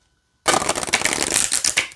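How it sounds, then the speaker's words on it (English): An oracle card deck riffle-shuffled up close, a quick continuous flutter of snapping cards starting after a brief silence. "Oh yeah, it'll shuffle nice that way as well."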